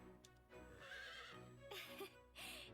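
A horse in the video game Fire Emblem Three Hopes gives a short, faint whinny, followed by soft hoof clip-clops, with no voices over it.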